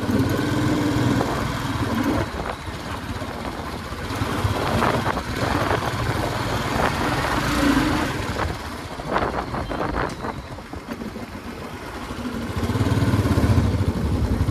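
A motorcycle engine drones steadily while riding, with heavy wind rush across the microphone and swells in revving, loud and close, with no talking.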